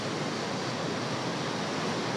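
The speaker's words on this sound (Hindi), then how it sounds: "साथ में नदी भी है।" A river rushes through a mountain valley village in the rainy season, giving a dense, steady roar of flowing water that fills the scene with no pauses and no voices.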